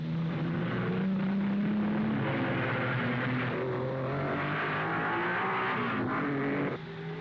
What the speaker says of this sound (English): He turns round when the road is clear and accelerates away into the race once more.